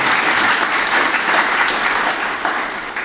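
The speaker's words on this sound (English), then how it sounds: "So let's please give him another round of applause." Dense, loud applause from an audience at a Delaware governor's executive order signing, continuous clapping filling the whole stretch and fading slightly at the end.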